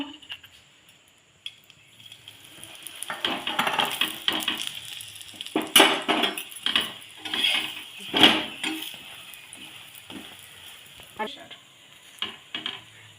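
Butter naan fries in ghee in a pan, giving a steady soft sizzle broken by scraping, stirring and clinking as the bread is turned, with louder bursts of scraping now and then.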